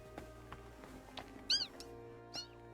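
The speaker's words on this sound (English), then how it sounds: "Cat?" A cat in the medieval role-playing game Kingdom Come: Deliverance II gives a short, faint meow and then a second, quieter one over a quiet ambient game soundtrack.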